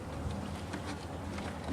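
Agitated honeybees buzzing during a hive inspection, a continuous low close drone with no pauses and no voices.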